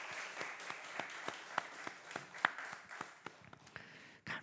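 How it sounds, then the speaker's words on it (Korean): Congregation applauding during a Sunday worship service at a church, a quiet, sparse round of claps with distinct individual hand claps rather than a dense roar, fading out after about four seconds. "우리 하나님 앞에 영광의 박수 올려드립시다."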